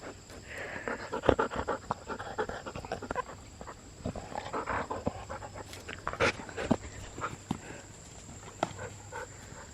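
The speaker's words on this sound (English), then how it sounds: "Crazy dog." A dog pants rapidly and heavily near the microphone while playing with a ball outdoors in a garden, with scattered thumps and rustles between the breaths.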